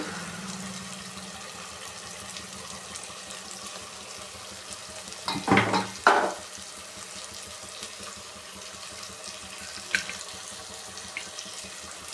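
Water pours briefly in two short splashing bursts midway through, fairly close, with quiet room noise before and after.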